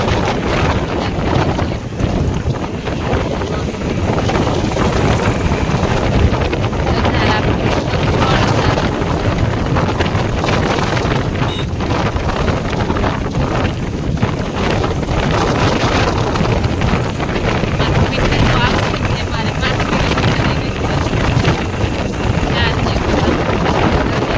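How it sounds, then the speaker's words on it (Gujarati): Strong cold wind buffets the microphone in a constant roaring rush, steady and loud throughout, with faint engine-like rumble underneath. "ઠંડો ઠંડો પવન છે."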